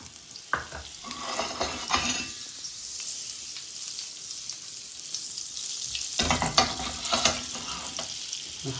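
A small knob of butter sizzles in a hot, oiled frying pan ready for calf's liver, a continuous hiss with occasional clinks and scrapes of stirring.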